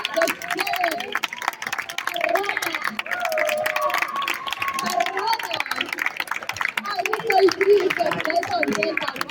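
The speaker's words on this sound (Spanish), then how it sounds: "¡Aplausos!" Audience clapping and cheering at a ballroom-style kiki session, a steady crowd roar mixed with shouts and chatter throughout.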